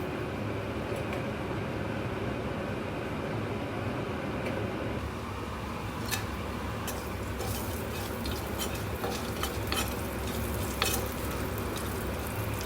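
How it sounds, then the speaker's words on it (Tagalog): Bay leaves and a cinnamon stick fry in a small amount of oil, producing a steady, close sizzle throughout, with occasional sharp crackles and clicks from stirring. "Habang piniprito natin ang ating bay leaves at cinnamon stick"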